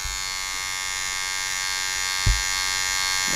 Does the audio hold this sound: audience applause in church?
no